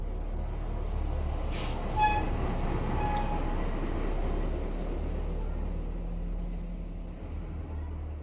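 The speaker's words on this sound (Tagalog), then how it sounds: "May dumaan na sasakyan." A vehicle rolls past outdoors in the Philippines, a steady low rumble that swells slightly and fades over several seconds, with a brief squeal of brakes or a horn-like tone near the start.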